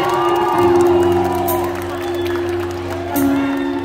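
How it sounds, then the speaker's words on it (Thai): Loud crowd cheering and whooping from a live concert audience, with a sustained musical tone running underneath and a surge of crowd noise near the end. "เสียงปรบมือดังมาก"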